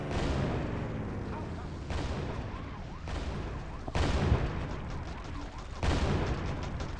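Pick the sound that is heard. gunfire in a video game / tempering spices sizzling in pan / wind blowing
gunfire in a video game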